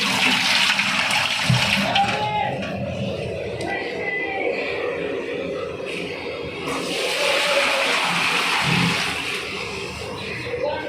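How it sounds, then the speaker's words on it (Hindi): Hot water poured into a kitchen sink to clear grease from the drain pipe, a steady rushing flow that runs throughout, fairly close, with household background noise. "ये फुली गर्म पानी जो है सिंक के अंदर बहाना है"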